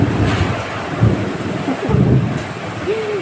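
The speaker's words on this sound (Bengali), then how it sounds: "ঝড় বৃষ্টি দেখছে।" Storm wind and rain roar as a steady broadband rush with gusty swells and low rumbles, loud and close, with no talk over it.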